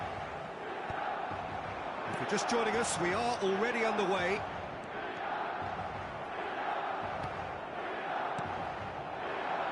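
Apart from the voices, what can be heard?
stadium crowd cheering at San Siro in football video game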